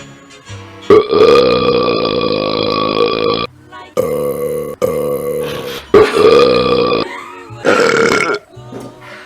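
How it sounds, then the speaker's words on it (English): A person lets out a series of long, loud, deep burps after drinking pop. The burps come in several drawn-out bursts with short gaps between them, close and dominant. "I may not have drunk as much pop, but my burp was the best."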